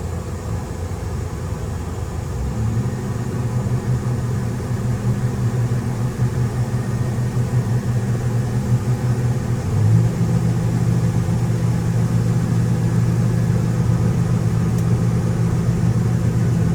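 A combine harvester runs while unloading grain, giving a steady low mechanical drone. An unloading auger engages with a sustained hum that shifts pitch about midway, continuous and fairly close, with no talking.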